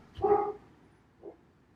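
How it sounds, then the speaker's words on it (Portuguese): A small female dog gives one short, close bark and then a fainter second yip about a second later, indoors and with no talk. "Minha cachorrinha aqui está querendo dar um palpite."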